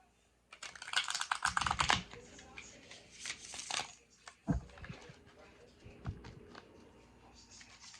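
Tarot cards being shuffled by hand at close range: a crisp burst of riffling and snapping early on, then softer, sporadic card handling and taps.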